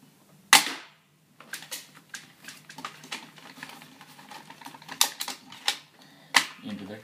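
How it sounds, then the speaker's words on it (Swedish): An M15 rifle fires a single sharp close shot near the start, followed by clicks and mechanical handling noises from loading and adjusting. "Första skottet."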